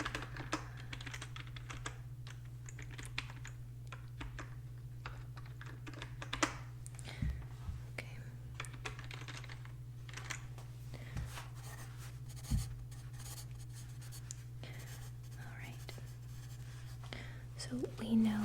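Soft keyboard typing and pen-on-paper writing in an ASMR skin exam roleplay, steady close clicking and scratching over a low constant hum, with occasional whispered speech.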